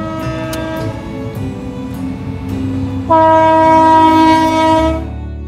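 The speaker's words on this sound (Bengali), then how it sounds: "আমরা এখন বোলারাতে রেল ক্রসিং এ আটকে, ডবল রেল পাস হচ্ছে।" A train passes a railway level crossing at Bolara. Its horn sounds in long, loud tonal blasts over the rumble and rattle of the wagons, and the sound stays close and continuous.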